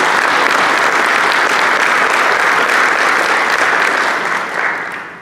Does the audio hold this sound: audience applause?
yes